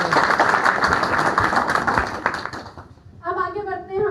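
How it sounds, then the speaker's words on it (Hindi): Seminar audience clapping, a dense burst of many hands lasting about three seconds, then fading as a voice begins speaking over the tail end. "तो एक बार आप अपने लिए ताली बजा सकते हैं।"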